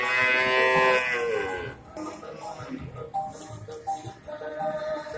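A male Pegon calf moos loudly and close at a cattle market, one long drawn-out call, followed by the busy murmur and clatter of the market crowd.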